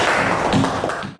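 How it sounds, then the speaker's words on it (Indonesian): Classmates in a classroom give a brief burst of clapping for a student, loud and close, lasting about a second before cutting off. "Ya, tepuk tangan buat Randi."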